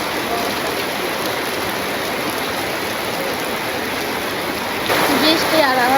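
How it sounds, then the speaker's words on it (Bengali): Steady rain pours down in a village, a dense, even hiss of drops on surfaces, with a brief voice and some louder activity near the end. "যে বৃষ্টি হইতাছে"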